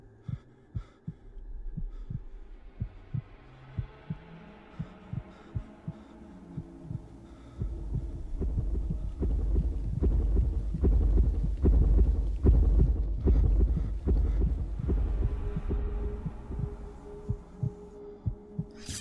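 A low, throbbing hum rises and swells within the horror game The Mimic, mixed with rhythmic pulsing thumps that grow louder toward the middle and then fade.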